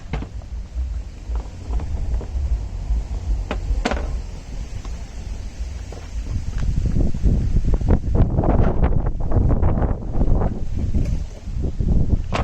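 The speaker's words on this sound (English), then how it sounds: "it's still windy here" Gusty wind buffets the microphone, rumbling and thumping low and loud, growing rougher and more turbulent partway through, with scattered knocks and rustles.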